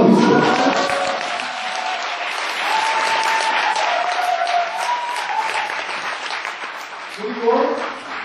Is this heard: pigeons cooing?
no